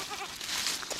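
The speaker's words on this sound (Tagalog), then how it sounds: "Ito yung bago nating kambing oh." A goat bleats in short wavering calls close by, filling the second with a nasal, quavering cry over a faint outdoor background.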